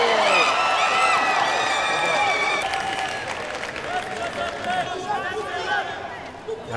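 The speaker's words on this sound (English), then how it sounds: "Supporters of each cheering their respective athletes on." Supporters in an arena crowd at the 28th Summer Universiade in Gwangju cheer their athletes on. The steady, loud roar of cheering, shouting and applause fills the whole stretch, with a commentator's voice faintly under it.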